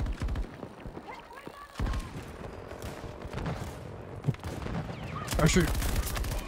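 Gunfire fills a Battlefield 2042 match, rapid automatic bursts and scattered shots with a few heavier booms in the background, under a player's voice talking.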